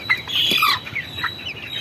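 Nearby broiler chickens about 26 days old squawk and cluck in short bursts during weighing, one louder burst early, then softer scattered calls.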